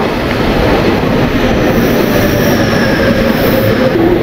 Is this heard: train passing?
yes